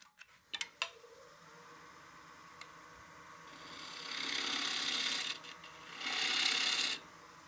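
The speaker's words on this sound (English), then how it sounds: "I'm just going to remove that little bit of wax where that washer was in place." A partially seasoned wooden bowl spins on a lathe while wax is scraped from its surface: a few sharp clicks, then a steady rasping scrape that swells in two louder bursts, close up and with no talk.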